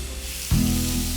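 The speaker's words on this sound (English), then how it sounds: "I'm browning a pound of sweet Italian sausage." A pound of sweet Italian sausage hits a hot pan to brown, bursting into a loud, close, steady sizzle that holds after a quieter hiss, with no voices.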